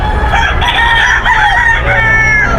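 Many chickens and roosters at a sparse Friday poultry market keep up a loud, overlapping din of clucking and drawn-out crowing, close and continuous over a low background rumble.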